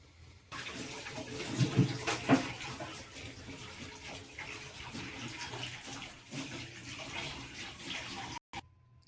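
Onion pakoras fry in oil in a kadai, giving a steady watery sizzle and bubbling with a few louder crackles, heard close and alone before a sudden brief cut near the end.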